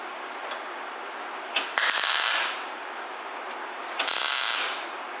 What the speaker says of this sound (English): We're going to weld a little tab on there and continue to work on it.